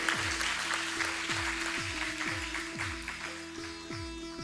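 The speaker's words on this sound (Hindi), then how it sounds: "एक बार जोरदार तालियां डॉक्टर श्रीवास्तव के लिए।" An audience at a folk singing performance at a monsoon festival applauds Dr. Shrivastava, giving a steady, moderately distant wash of clapping while a sustained tonal instrument drone with rhythmic plucked notes continues underneath.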